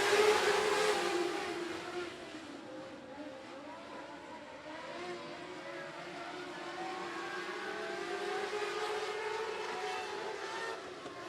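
Mod Light race cars howl around the 105 Speedway oval, several engines whining and droning together at high revs, the pack loudest at the start, then holding a steady roar as it passes.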